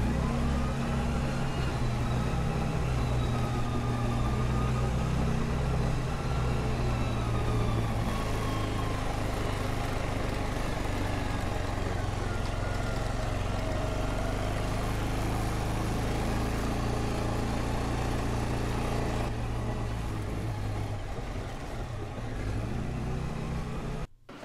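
Steady engine drone of a vehicle driving back to a house and barn on a hay farm, heard continuously from inside at a constant, fairly even level, ending abruptly.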